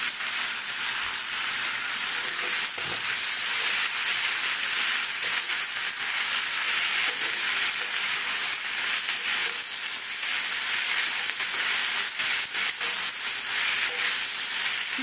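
Food frying with turmeric in a pan gives a steady, close sizzle with hissing and steam throughout, without pauses, and no one speaks.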